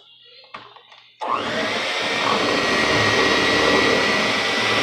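After a few soft clicks, a blender roars to life mixing soap batter and keeps running at a steady, loud whir close by.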